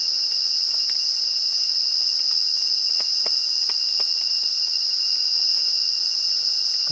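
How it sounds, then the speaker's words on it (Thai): Crickets chirp loudly at night in a forest during light rain, a continuous high shrill drone with faint scattered ticks and drips beneath it, no voices. "เสียงจิ้งหรีดนี่ร้องดังมาก"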